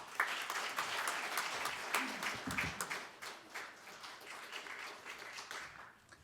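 A crowd claps steadily for several seconds at a Buddhist spring dharma service at the Korean National Assembly, the dense applause gradually thinning and fading toward the end.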